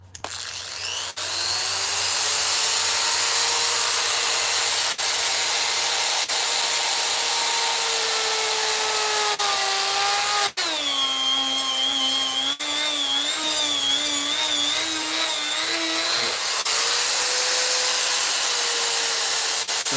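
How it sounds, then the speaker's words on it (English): A power sanding tool works down the nose of a wooden carving, giving a loud, steady motorized whine that runs the whole time, with its pitch dipping and rising as the tool loads and frees up. No voices. "I'm gonna sand that nose down and give us some nose holes"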